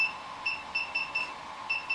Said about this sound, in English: The remote beeping different